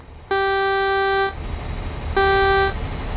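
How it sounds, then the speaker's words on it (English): Truck horn in an American trucking video game, sounding two loud, flat blasts: a long one of about a second, a pause, then a shorter one. "God, even the horn sounds crap."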